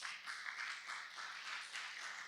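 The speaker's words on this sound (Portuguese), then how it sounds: "Uma salva de palmas para Jesus." Church congregation applauding together in a steady, moderately distant patter of many hands, fairly soft and continuous with no talk over it.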